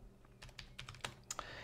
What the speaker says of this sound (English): So I will type in here git clone